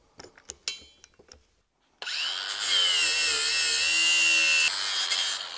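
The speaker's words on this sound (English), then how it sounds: "I'm going to use the grinder." After a few short knocks and taps, an angle grinder spins up and grinds steadily on bus window parts. It runs loud and close for about three seconds, then its pitch dips briefly near the end.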